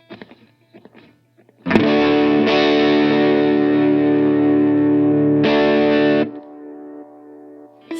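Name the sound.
Line 6 POD Go guitar delay trails fading after pedal off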